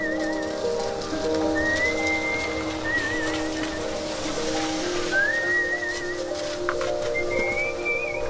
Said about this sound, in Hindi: life doesn't stop moving just because it's raining nonstop